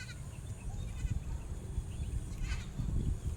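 Goats, a half-LaMancha half-native herd grazing outdoors toward evening, bleat faintly at a distance, with a couple of brief calls over low rustling and background noise.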